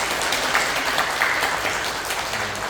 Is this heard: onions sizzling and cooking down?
no